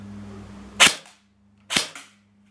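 A CYMA MP5 airsoft gun fires two sharp, close, loud cracks about a second apart, each with a brief rattle after it, against an otherwise quiet background.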